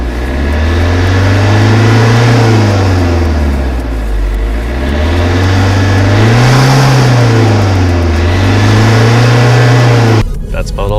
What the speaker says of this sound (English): It's a diesel, so it doesn't sound very exciting.